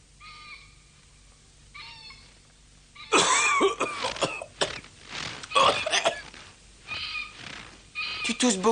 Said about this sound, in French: Tu tousses beaucoup, je trouve.